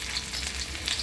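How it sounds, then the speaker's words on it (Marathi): Rawas fish frying in hot oil in a pan, giving a steady, close, broadband sizzle with a few brighter crackling bursts over one second and no voices. "आता तेल गरम झालं की आपण फ्राय करणार आहोत"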